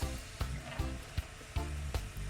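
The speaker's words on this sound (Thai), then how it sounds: "ต่อไปเราก็จะนำตัวมันฝรั่งเนี่ยลงมาทอดต่อเลยนะคะ ในน้ำมันที่ยังร้อนๆอยู่ค่ะ" Potatoes for chips fry in hot oil, a steady sizzle with soft bubbling and regular sharp pops or stirring knocks, close and fairly quiet, with no talk.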